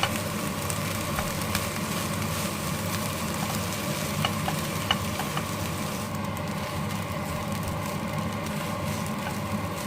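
Cold, fridge-hardened rice is stir-fried over low heat for nasi goreng in a restaurant kitchen, giving a steady, moderate sizzle with scattered scraping and tossing clicks throughout. No speech.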